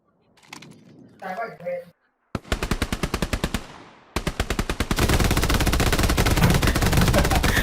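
Rapid automatic gunfire from the World War II shooter Hell Let Loose, loud and close. A short burst is followed by sustained fire and dense overlapping shots, with a voice talking briefly beforehand.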